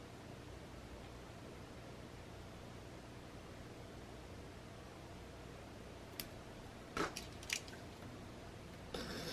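Scissors trim the edges of paper in a quiet crafting setting, giving a few sharp, close snips clustered near the end after a long stretch of near silence.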